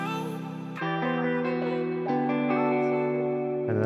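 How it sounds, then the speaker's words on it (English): A sustained, pitch-shifted vocal tone with heavy reverb and echo, notes shifting in steps and smearing into a washy, spacious tail. "Add that reverb for some more ambience."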